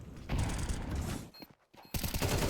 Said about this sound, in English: Tries to re-peek into the spray, and it doesn't work out as Triple Man just moves slightly forward and gets that kill.